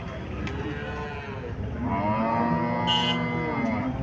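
Sahiwal breed cows at a Qurbani cattle market in Chandimura Bazar, Barura, Comilla give a long, low moo partway through, heard close against a background of market murmur.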